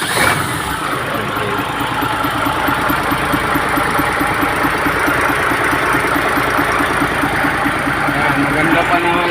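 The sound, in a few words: truck engine started and idling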